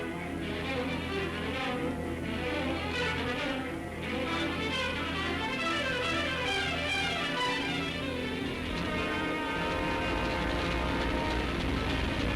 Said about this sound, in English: One by one, the great planes took the air for their appointment